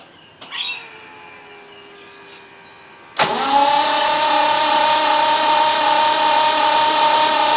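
A Triumph 2500 MK I is turned over with the key: a faint click and a fading whine first, then a loud, steady mechanical whirring cuts in abruptly and holds, close and sustained.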